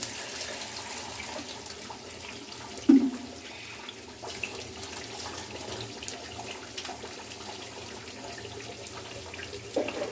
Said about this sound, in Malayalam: ആവശ്യത്തിനുള്ള ചൂടുവെള്ളം തിളപ്പിച്ചാറ്റിയതാണ് നമ്മൾ അതിനകത്ത് ഒഴിക്കുന്നത്